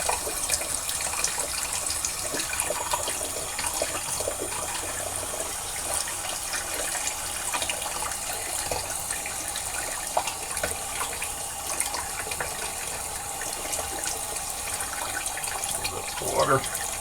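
Tap water runs steadily at a sink for the whole stretch while someone wets their face before a shave with a badger brush, a broad continuous hiss with small splashes and no talking.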